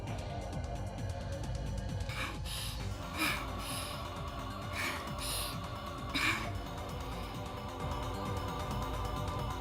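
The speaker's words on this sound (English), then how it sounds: "The only sound is her heavy breathing." A girl's heavy, labored breathing in the visual novel Steins;Gate, with gasps and snorting breaths rising at intervals over a steady low background.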